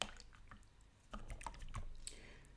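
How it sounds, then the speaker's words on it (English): Paintbrushes are swished and tapped in containers of rinse water, giving soft, close drips, sloshes and small clicks in irregular bursts, faint and without speech. "We wash the paintbrushes."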